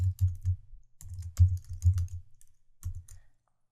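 Quick bursts of clacking keystrokes on a computer keyboard, close up, in uneven clusters separated by short pauses.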